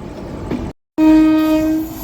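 A goods train rolls past with a loud, sustained horn blast that follows a brief cut of silence, over rumbling wagons and wheel clatter that fade slightly at the end.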